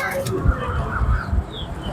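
Sialkoti pigeons cooing softly nearby in a loft, brief low murmuring calls under a faint background voice.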